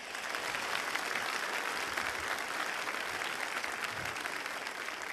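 Sustained applause from a church congregation welcoming a new worship song, steady dense clapping at even loudness throughout with no one speaking over it.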